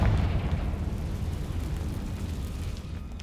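Hogwarts Legacy Confringo fire spell blast, a deep rumbling boom that starts strong and slowly decays into a low roar over a few seconds.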